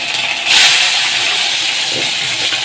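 Hot oil spatters and sizzles loudly in a pan after tomato goes into a Bengali dish, a dense hiss that swells sharply for a moment and then continues steadily, with no talking.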